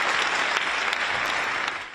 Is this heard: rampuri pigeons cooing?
no